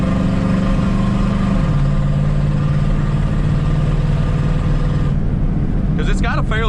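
Car engine with a fairly new carburetor idling with a steady low drone and a gurgling undertone, held close and constant before a short squeal near the end.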